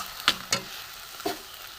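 Fresh coconut paste stirred in a hot pan, three distinct scraping strokes over a soft low sizzle, close and fairly quiet, no voices.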